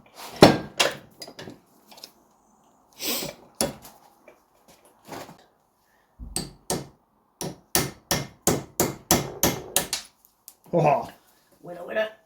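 A hammer strikes a punch to drive an old seized pipe out of a part clamped in a vise, a run of sharp metallic blows coming in irregular bursts and then a fast steady series, loud and close.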